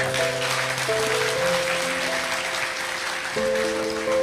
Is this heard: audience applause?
yes